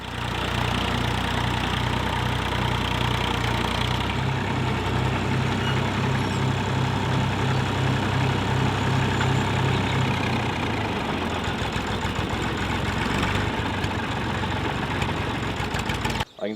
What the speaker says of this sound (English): my friend Tommy came over to plough for our spring wheat